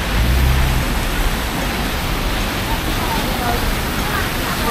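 Steady rain hisses all around in Hong Kong, a dense, even wash of noise with a low rumble at the start.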